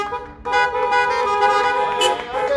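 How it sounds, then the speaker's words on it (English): Car horns honking from parked cars at a drive-in church worship service, several overlapping toots sounding together in a sustained chorus. "Honk. Honk if you're"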